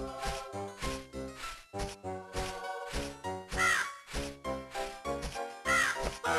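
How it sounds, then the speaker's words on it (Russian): Repeated crow caws from Barbie: The Princess and the Pauper on Game Boy Advance, chiptune calls pulsing in a steady rhythm over chiming, tinkling game music, loud and with no voice over them. "Так, первая ворона есть."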